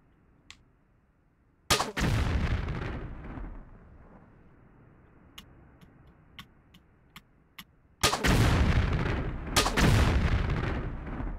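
Explosive ammo fires in Tomb Raider: The Last Revelation: a single faint pop, then two loud booming blasts several seconds apart, each with a long rumbling tail, and a few light clicks in between.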